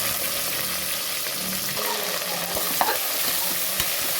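Onions sauté in a pan while being stirred for a prawn biryani, a continuous loud frying hiss with scraping spatula strokes throughout, close up and with no voices.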